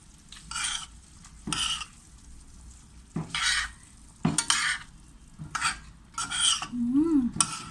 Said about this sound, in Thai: คลุกเคล้าให้เข้ากันนะคะเพื่อนๆ